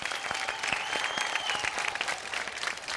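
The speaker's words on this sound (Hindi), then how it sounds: "तो आइए हम उनका स्वागत तालियों के साथ करते हैं।" Steady applause from a crowd at a Big Memsaab audition in Bhagalpur, Bihar, fills the whole stretch, dense clapping at an even level with no talk over it.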